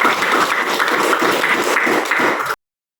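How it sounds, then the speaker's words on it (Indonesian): A classroom audience applauds after a discussion, a steady, dense wash of many hands clapping that holds for about two and a half seconds and then cuts off abruptly. "Kita beri tepuk tangan."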